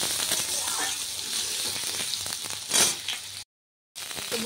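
Vegetable stalks frying in a pan, a steady close sizzle with a brief louder crackle burst, then a short total silence before the sizzle resumes.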